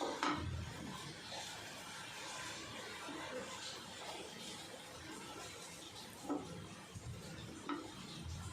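Potato bread sandwich frying in ghee on a home kitchen pan, a steady close sizzle with stirring and occasional clinks of utensil against metal, continuous throughout with no talking.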